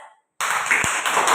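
After a brief silence, a primary school class of children bursts into quick clapping that carries on steadily, with a single low thump partway through.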